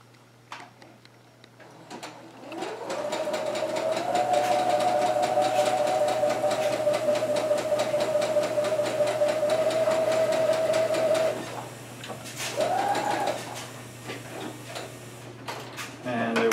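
A sewing machine stitches fabric, whirring up to a steady, even run with fast needle ticking for about eight seconds, then stopping, with a brief second burst of stitching before things go quiet.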